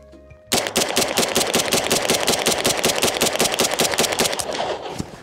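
MP5 in a longer, heavier setup fires a long fully automatic burst of rapid, evenly spaced, loud close-range shots that runs for several seconds and then stops abruptly, with no talking.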